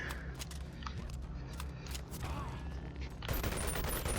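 Twin submachine guns firing in the VR game Boneworks, rapid bursts of sharp shots with mechanical clicks, ending in a denser sustained burst of fire.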